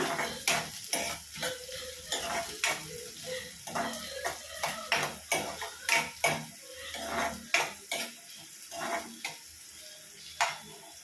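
Onions and green chilies fry in a pan while a utensil repeatedly clatters and scrapes against the metal in an uneven rhythm over a steady soft sizzle, close and fairly loud, with no voices.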